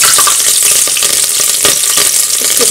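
Green chillies hiss and crackle loudly in hot oil over a lowered flame for methi egg pulao, a dense, close frying sizzle with faint stirring and no voices.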